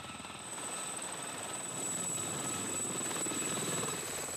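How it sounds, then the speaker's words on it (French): A military helicopter drones steadily and fairly faint, its rotor chop and engine whine holding an even, continuous level throughout with no voices. "Un autre moyen de locomotion indispensable au 13. L'hélicoptère."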